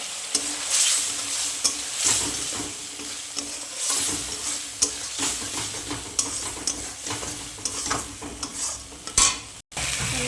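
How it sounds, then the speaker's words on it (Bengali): Prawns fry in spiced oil in a pan with a steady sizzle, stirred repeatedly so a spoon scrapes and clinks against the metal. The stirring comes in rhythmic bursts and is close and moderately loud, with no talking. "চলো আমি এখন মাছটা দিয়ে দেবো, মাছটা দিয়ে কষাবো।"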